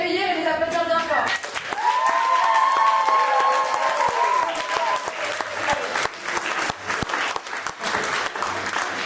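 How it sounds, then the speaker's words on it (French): A theatre audience applauds loudly to welcome teenage dancers at an international dance course, with cheering and sustained tonal voices or music over the steady clapping throughout. "Et bien, on peut les accueillir et les applaudir bien fort."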